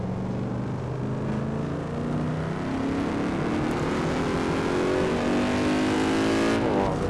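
A Boss V8 race car engine roars in Project CARS at Bathurst, loud and steady throughout, with rising and falling rev pitch as the car accelerates and shifts, alone with no talk.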